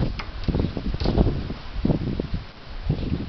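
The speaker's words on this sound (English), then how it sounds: "You getting the heavy wind yet?" Heavy wind roaring and gusting during a severe storm in Cambridge City, Indiana, with steady broadband rush and buffeting surges close to the mic, no one talking.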